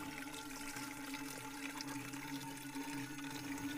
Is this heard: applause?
no